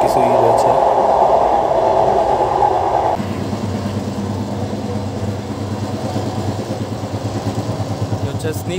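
Modhumoti Express on the Dhaka to Rajshahi run, heard from inside a coach: a loud roaring rumble that drops abruptly to a quieter, rhythmic rolling clatter after about three seconds, continuing steadily.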